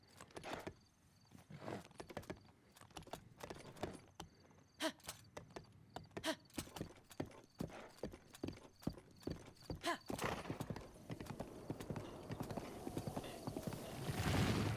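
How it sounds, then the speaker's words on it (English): Horse hooves galloping in the video game Breath of the Wild, a fast steady clip-clop rhythm running throughout, close and moderately loud, with a brief whinny and rising wind and ambient noise toward the end. "we hop on our horse to go take it"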